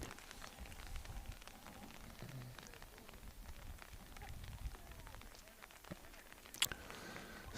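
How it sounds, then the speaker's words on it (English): Rain keeps falling over an outdoor football pitch during the second half of a league match, a faint, steady hiss with scattered pattering drops and distant field noise beneath it. "Since that second half has started, the rain has not subsided."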